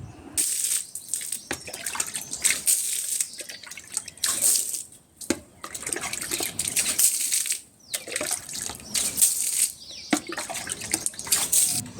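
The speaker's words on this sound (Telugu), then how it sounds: "ఆ ప్యాకెట్ అయితే వాటర్లో కలుపుకొని వాటర్ చల్లుతున్నాను" Coloured water mixed from a packet is splashed by hand onto the ground outside a house in Hyderabad, giving repeated short wet spatters and drips in irregular bursts with brief pauses between.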